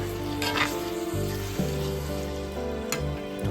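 800 grams of chicken liver being stirred in a pan for a toddy-shop-style pepper roast, with a soft steady sizzle under a few scraping strokes of the spoon and a low background hum, no voices.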